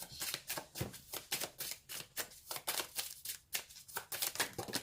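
Rapid, repeated riffling of tarot cards being shuffled, crisp papery bursts coming in quick succession, close and fairly quiet with no talking.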